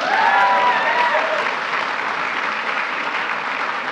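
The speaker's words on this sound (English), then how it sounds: "You can clap." Sustained applause from a large crowd at a West Point trophy presentation ceremony, loud and even throughout, with a faint voice briefly audible at the start.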